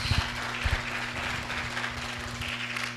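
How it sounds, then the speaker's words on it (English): Audience applause at the Delray Beach commissioner candidates forum, a steady wash of clapping from a roomful of people lasting a few seconds, moderately loud with a low hum beneath. "Let's give them another round of applause."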